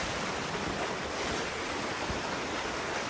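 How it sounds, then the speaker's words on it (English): Ocean waves breaking along the shore at Split, Croatia, a continuous broad wash of surf mixed with wind noise on the microphone, steady and fairly close with no talking. "Oh, look at those waves."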